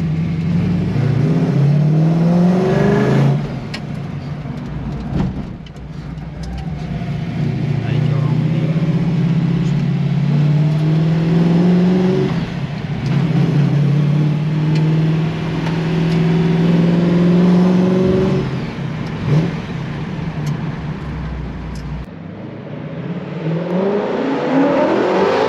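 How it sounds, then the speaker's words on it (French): A 1965 Ford Mustang in Gulf livery with a V8 engine revs and accelerates close by, its loud rising and falling engine note surging through several gear pulls, with people talking over it. "est-ce que vous avez déjà entendu une Mustang de 65"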